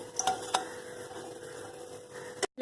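Paneer cubes fry in a pan for biryani as a utensil stirs them. A few sharp metallic scrapes and clinks sound over a soft, steady background sizzle, ending in a brief abrupt cutoff.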